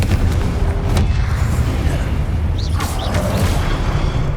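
A Confringo explosion spell goes off during a Hogwarts Legacy fight, heavy booming impacts dense with low rumble and battle noise throughout, loud and close, with a shouted spell.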